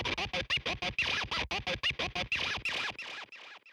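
DJ turntable scratching, run through an amp setup with compression and added delay, plays as a steady string of rapid rhythmic scratch bursts, with echoing repeats trailing off and fading at the end.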